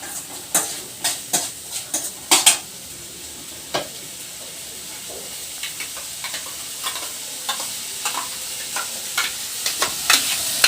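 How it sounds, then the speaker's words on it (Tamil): A spoon stirs village-style mushroom gravy in a pan after ground paste is added, giving repeated close scraping clinks with a soft sizzle underneath, stronger at first and then lighter and evenly paced. "இந்த பேஸ்ட்டை சேர்த்திட்டு இப்போ நல்லா நம்ம வந்து கிளறி விட்டுறலாம்."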